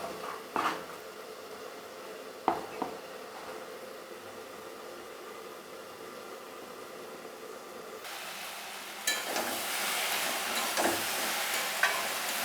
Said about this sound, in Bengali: লতিটা বসিয়ে দিয়েছি লতিটা নাড়াচাড়া দিতে